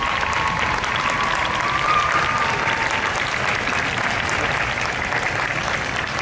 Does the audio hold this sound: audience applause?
yes